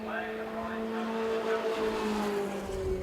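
Formula Ford race cars from the pre-1990 class at Brands Hatch run at full throttle, producing a steady, loud engine drone with a rising pitch. A commentator talks over the engines throughout.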